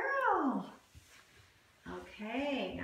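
A basset hound whines in two high, drawn-out, falling cries, one at the start and one near the end, with a quieter gap of soft rustling between them, fairly close to the listener.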